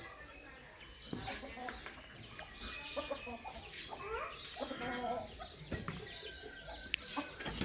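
Several chickens and chicks cluck and chirp close by in a busy, irregular stream, with people talking over them at times.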